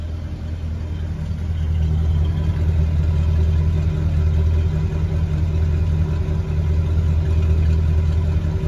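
A 1974 Mercury Marquis Brougham idles at night with a worn Y-pipe exhaust, giving a steady, low, quiet rumble that holds evenly throughout, close by.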